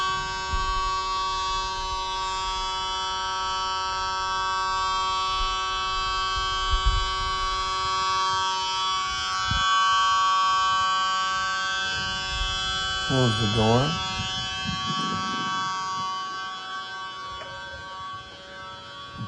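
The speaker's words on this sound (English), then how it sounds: "Buzzer stops." A school bus door buzzer sounds as a steady electronic tone throughout, under a person speaking during a pre-trip inspection, with a brief siren-like sweep near the end.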